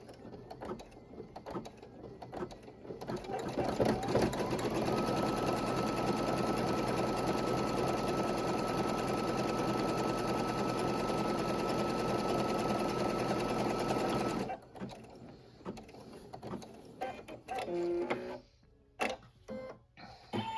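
An embroidery machine stitches a straight line, a fast, steady mechanical whir with rapid needle ticking. It starts after a few quiet seconds, runs for about ten seconds, then stops, followed by scattered handling clicks.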